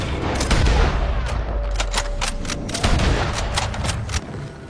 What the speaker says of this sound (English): Hey, careful who you're shooting at.